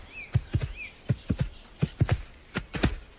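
A thoroughbred horse canters a bouncy stride between jumps, its hooves striking in repeated close, rhythmic groups of thuds, with a brief bird chirp early on.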